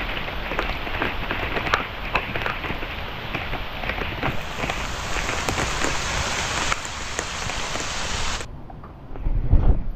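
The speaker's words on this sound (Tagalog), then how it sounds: "Lakas din itong ulan na to." Heavy rain pours steadily outdoors in a broadband wash that stays loud and dense throughout, with occasional sharper drops and a brief rumble near the end.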